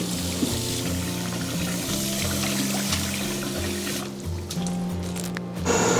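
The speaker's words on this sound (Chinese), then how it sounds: "然后再把这个牛肉给它淘洗一遍。" Beef being rinsed in water: steady pouring and sloshing of liquid with soft squishing of meat throughout, close and moderately loud, ending with a brief stronger splash.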